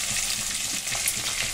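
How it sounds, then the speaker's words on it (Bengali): Fish frying in hot oil in a home kitchen, a steady close sizzle with crackling pops, no talking. "আর এই মাছগুলো দেখো ভাজা করি"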